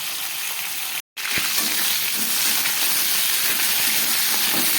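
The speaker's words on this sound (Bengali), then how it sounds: "খুব ভালো করে আমি ফুলকপিটাকে ভেজে নিচ্ছি আলু আর ফুলকপিটা" Potato and cauliflower pieces frying in a pan give a steady, close sizzle and hiss that carries on without a break apart from one very short dropout, with no voices.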